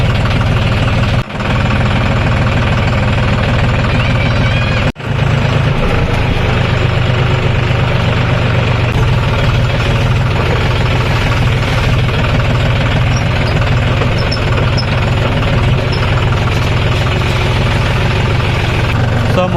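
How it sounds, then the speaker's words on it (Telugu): A tractor engine runs steadily and loudly close by on a farm trip to the fields, a constant low, heavy throb with mechanical knocking and two brief dips in the drone. "ఇక ట్రాక్టర్ పట్టుకుని అయితే చలో దొయ్య కాడికి పోవాలి."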